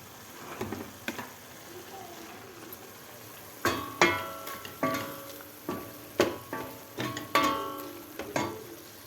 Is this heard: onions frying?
yes